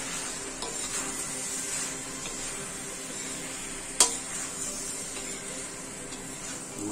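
Kashmiri red chili and spices are stirred in a hot, faintly sizzling pan, with soft scraping strokes over a steady hiss and one sharp clink of the utensil midway.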